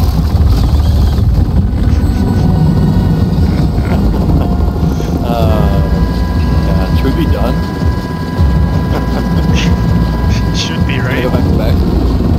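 A helicopter flies in a video game, its loud, continuous rotor and engine roar filling the whole stretch while players' voices come through underneath.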